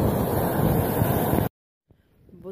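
Wind buffets the microphone at a Russian seashore alongside wave wash for about a second and a half, loud and rough, then cuts to near silence before a faint rustle returns.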